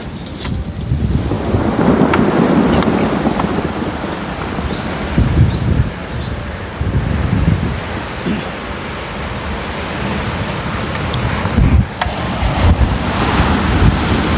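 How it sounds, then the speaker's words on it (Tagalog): Heavy surf rolling and crashing in a continuous roar, with wind buffeting the microphone throughout. "Lakas ng alon ano?"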